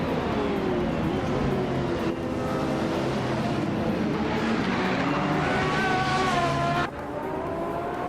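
Racing game start at Zandvoort with a 1990 Mazda 787B on pole: a dense pack of race car engines roars and whines steadily throughout, rising and shifting pitch as cars accelerate together, loud and continuous.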